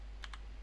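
A computer keyboard is typed on, two quick soft keystrokes close together against a quiet background hum.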